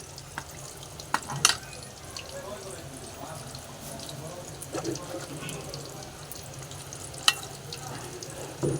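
Food fries in a pan with a steady sizzle, broken by a few sharp clicks and clanks of stirring, moderately loud and close with no talk over it.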